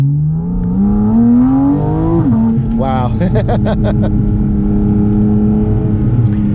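Porsche Cayman GT4 RS engine pulls hard through the revs in a rising drone, drops at a gearshift, then carries on at a steady, loud pitch under an excited shout and continued talk.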